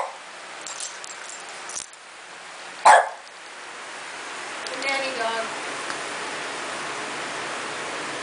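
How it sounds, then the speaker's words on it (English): Puppies play with a single sharp yelp or bark partway through, close by against a steady hiss of background noise, with faint scuffling and soft whimpers around it. "There's Hope playing with one of the puppies"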